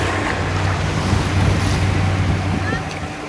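Black Sea surf washing onto a sandy beach at Ordu, Turkey, a steady continuous wash with wind buffeting the microphone and a low rumble underneath.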